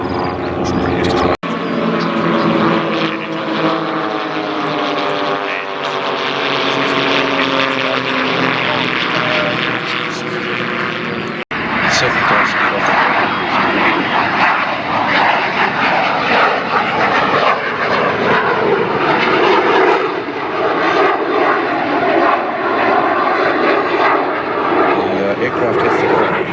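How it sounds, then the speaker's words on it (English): A small propeller plane flies at a RAAF airshow at Edinburgh air base in South Australia, its engine droning loud and steady with shifting pitch as it passes, while an announcer talks over a public address throughout. "Aircraft has to go at quite a high angle, so it doesn't go too fast to be able to put the gear up."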